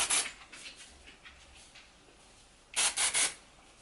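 Dry shampoo is rubbed into hair with soft, close brushing strokes, a few at the start and then a tight cluster of three near the end, with quiet gaps between.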